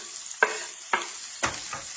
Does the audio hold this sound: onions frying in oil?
yes